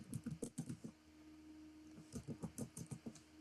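An address typed on a computer keyboard, two quick bursts of close, soft key clicks with a short pause between, quiet and alone.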